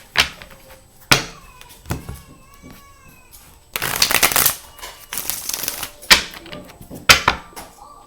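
A deck of tarot cards is shuffled during a card reading: several brisk, papery riffles and bursts of shuffling, with soft handling taps and rustles between them, close and fairly loud.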